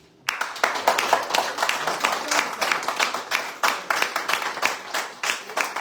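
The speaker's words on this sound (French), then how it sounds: "on les applaudit" Studio audience applause at a live French radio bistro show: dense, steady clapping from many hands that starts abruptly and carries on at fairly even loudness throughout, with no talking over it.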